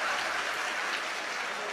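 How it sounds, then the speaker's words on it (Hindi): Audience at a stage poetry event applauds in a steady, rain-like wash of clapping, moderately distant and continuous throughout. "आप अपने लिए एक बार जोरदार ताली बजाएं।"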